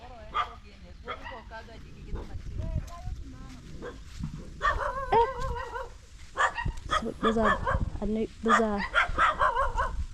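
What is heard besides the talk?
neighbor's dogs barking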